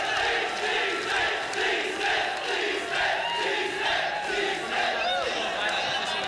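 A dense crowd shouts and hollers continuously at a breakdance battle between Poison 13 and Sixth Threat, a loud, steady roar of voices with rising and falling swells throughout.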